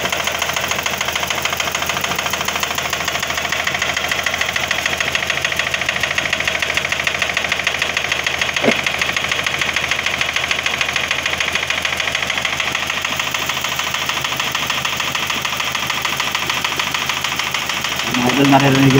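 A Toyota Vios engine idles with an internal knock. The running is steady and close and carries a rattling tick, with a voice speaking faintly over it and a brief louder burst at the end.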